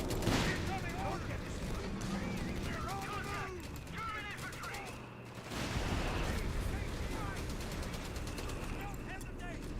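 Artillery and gunfire from a Total War: Warhammer 3 battle, a dense, continuous barrage of shots and booms with a brief lull midway, loud throughout with a voice talking over it.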